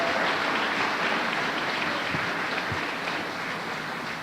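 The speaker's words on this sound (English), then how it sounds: "Big round of applause to our committee." Audience applause at an annual chamber of commerce dinner and awards banquet, a steady broadband wash of clapping filling the room for several seconds without any talk over it.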